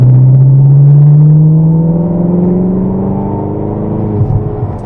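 A supercar accelerates along the Rockingham race track, its engine note loud and close, climbing steadily in pitch through the gears with a deep rumble, then easing off near the end.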